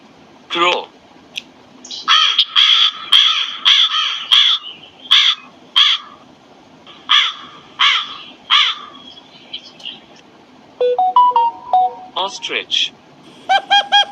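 A crow caws repeatedly in loud, harsh bursts, a steady run of close calls with brief pauses, ending in a quicker cluster of sharper, higher notes.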